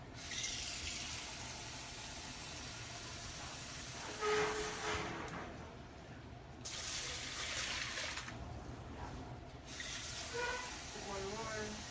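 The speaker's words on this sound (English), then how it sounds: "Put some water in it." Water runs from a tap into a container of brown rice, a steady rushing stream with brief louder splashes, heard close in a home kitchen.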